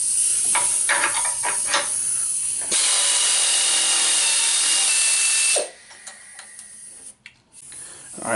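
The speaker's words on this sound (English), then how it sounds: "sorry about the air leak" Sharp, loud hiss of air leaking while a Yamaha G1 Sun Classic golf cart engine is being removed, preceded by ratcheting clicks and then cutting off, leaving quieter tool handling and clanks.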